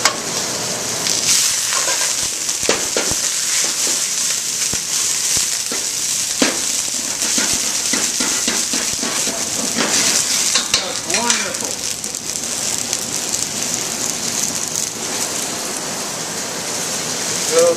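Steady loud sizzling of ingredients stir-fried in hot palm fruit oil with ginger and garlic, with occasional stirring scrapes and a voice talking over it.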